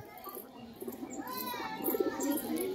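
A fancy pet pigeon coos in a few soft, rising calls, close by against a quiet background.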